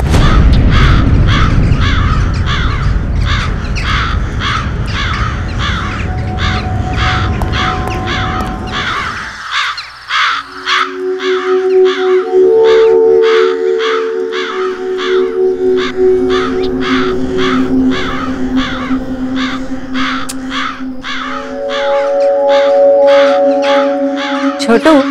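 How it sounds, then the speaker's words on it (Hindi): Many crows caw loudly and continuously in a rapid, overlapping chorus close by, with a voice and a drawn-out tone running beneath the din. "छोटू, ये कौवे यहाँ पर ऐसे ही रहते हैं क्या? इनके कांव कांव ने मेरा सिर दुखा दिया है।"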